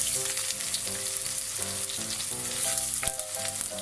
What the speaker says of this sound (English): The oil is ready, hot now, so we put garlic first